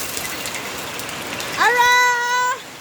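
Steady rain hisses throughout, and a cat gives one drawn-out meow near the end; no one speaks.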